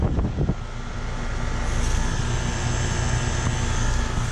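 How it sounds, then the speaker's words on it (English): A 1991 Comfortmaker heat pump with an old Bristol compressor starting up in heat mode: a brief clunk at the start, then a steady, close mechanical hum and whooshing fan drone. "That was a startup of a 1991 Comfortmaker heat pump."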